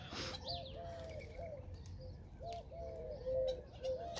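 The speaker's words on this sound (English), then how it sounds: "They got all these little blackbirds." Small blackbirds call in a repeated series of short, clear whistled notes, moderately near, over a steady outdoor background hum with a few faint chirps mixed in.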